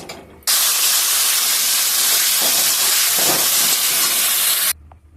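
A mixer grinder whirs loudly as it grinds cashews and dry spices into a paste, a continuous dense roar starting abruptly and running several seconds before cutting off sharply.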